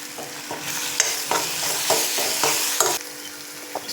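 Tomatoes with turmeric powder sautéing in a pan for a restaurant-style peas curry, with a continuous sizzle and repeated scraping stir strokes against the pan, close and without talk.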